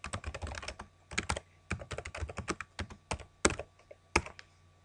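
Rapid bursts of typing on a computer keyboard at a command line, keys clattering in quick irregular runs with short pauses between, close and alone with no talking.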